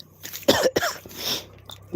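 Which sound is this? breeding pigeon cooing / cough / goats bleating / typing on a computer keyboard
cough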